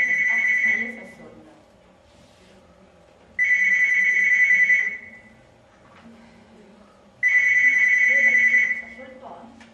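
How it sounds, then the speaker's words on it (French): A telephone ringing three times in even bursts with pauses between, fairly loud and close, while low voices murmur underneath. "Ah, ça y est, ça sonne."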